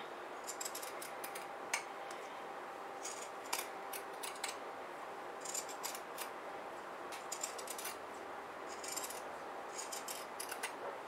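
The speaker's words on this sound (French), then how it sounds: "avec mes ciseaux cranteurs. Je fais le tour de mes oreilles." Pinking shears snip around the sewn fabric ears of a baby bath cape, giving a steady run of close, crisp cutting clicks with brief pauses and no talk.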